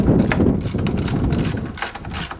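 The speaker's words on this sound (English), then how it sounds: "So I'm going to go ahead and tighten down all of the nuts." A hand ratchet clicks in quick bursts while the battery cable nuts on a Dodge Ram diesel are tightened, close and busy, with no talking.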